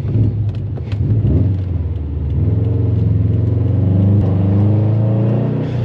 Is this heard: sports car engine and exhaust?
yes